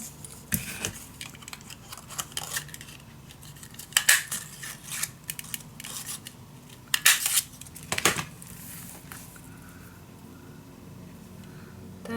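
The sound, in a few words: scissors cutting paper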